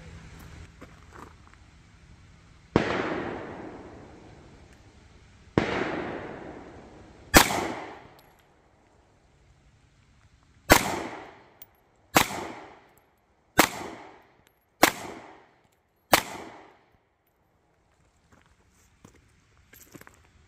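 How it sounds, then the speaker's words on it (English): A Taurus GX4 9mm pistol fires about nine sharp shots outdoors, slow and spaced at first and then quicker, each loud crack followed by a short decaying echo, with no talking. "when I start out with a brand new pistol I haven't fired, I pull a little right because I don't know what to expect for that first shot"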